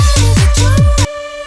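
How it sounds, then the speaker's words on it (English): A sustained, airy synthesized vocal pad swelling in five rhythmic pulses with a pumping rise and fall, then cutting to a quieter held tone. "So it's like a pad, like a vocal pad."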